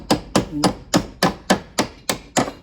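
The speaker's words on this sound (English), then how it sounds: "Did that need hammering as well, did it?" Hammer blows on shelving in a shed: eight sharp, evenly spaced strikes about a third of a second apart, close and fairly loud, with no talking.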